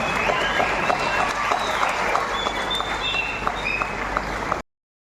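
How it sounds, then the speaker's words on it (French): A hall audience applauds to welcome the Chinese ambassador at a Chinese New Year celebration in Rabat, with sustained, fairly distant clapping that stops abruptly near the end. "je vous demande maintenant d'un chaleureux applaudissement pour accueillir Son Excellence Li Changyan, ambassadeur de la République populaire de Chine à Rabat"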